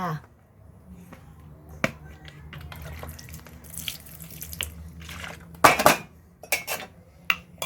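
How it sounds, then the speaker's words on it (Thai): Chili and garlic pounded in a mortar for a Thai papaya salad, with a few sharp, separate strikes and clatters over a low, faint voice in the background. "ตอนตำพริก กะกระเทียมพ่อจะไม่ให้มันกระเด็นเลยลูก"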